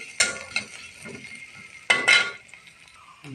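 Chopped garlic and onion hit hot oil in a pan, two sharp hissing bursts that fade quickly, with light clinks of a utensil between them.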